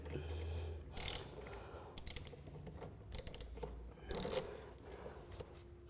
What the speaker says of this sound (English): a 10mm socket on a ratchet, and it's a simple case of loosening the bolt on the back bulkhead for the earth connection